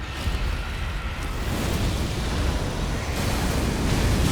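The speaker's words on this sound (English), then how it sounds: "Explosion is actually big." Massive explosion in the Elden Ring boss fight against Messmer the Impaler, a loud sustained roaring blast with rumbling low end and hissing debris that swells slightly and holds for several seconds, no voices.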